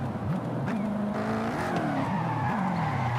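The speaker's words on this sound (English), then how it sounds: "Plus, you got a supercharged V8." Supercharged V8 car in Forza Horizon 5 revving through rising and falling engine pitch with shifts, steady and close, under faint tire noise.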